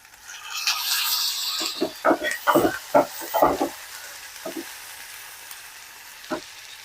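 A tomato added to frying onions in a pan for egg biryani, a bright burst of sizzle followed by a cluster of stirring knocks and scrapes, then quieter occasional taps, close by.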